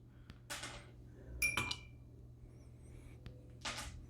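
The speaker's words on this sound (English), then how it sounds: "We're gonna remove our ice cubes." Ice cubes are taken out of a glass: a few separate clinks and knocks of ice and glass, with a sharp ringing clink in the middle and quieter rustles between, over a low steady hum.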